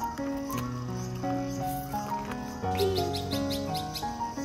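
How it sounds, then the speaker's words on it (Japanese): Birds chirping outdoors at a temple during a family stair-cleaning outing, repeated high tweets over a dense bed of tonal insect-like drone, steady and moderately near. "鳥鳴いてるね。"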